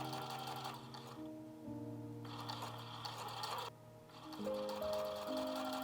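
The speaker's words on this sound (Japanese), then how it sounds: "布をこのように並べてミシンで縫いますよ。" A sewing machine runs in steady bursts as it stitches fabric triangles together for a shoulder bag, close and fairly quiet, with short pauses between runs and no talking.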